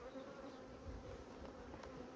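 Honeybees inside a hive give off a faint, steady, dense buzz. The low drone holds continuously without pauses.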